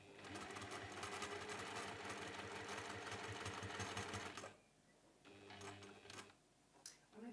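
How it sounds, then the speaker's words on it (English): Sewing machine running steadily along the sides of a folded pinwheel cushion cover, a close, even whirring rattle for about four seconds before stopping, followed by quieter handling and a brief restart. "So we're going to sew those two sides down"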